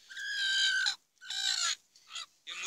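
A brooding hen settling onto a nest of wheat straw over eggs gives several loud, drawn-out clucking calls, one long call followed by shorter bursts close to the microphone, with no talking.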